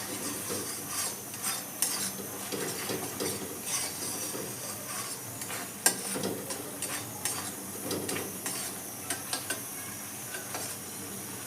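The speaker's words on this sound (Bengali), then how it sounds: "এবার আমি মশলাগুলো খুব ভালো করে কষাচ্ছি" Spices being stir-fried in a pan for a squash and potato curry, with a spatula scraping and stirring over a steady close sizzle, plus a few sharp clinks of utensil on metal and no talking.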